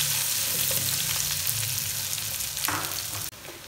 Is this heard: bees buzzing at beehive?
no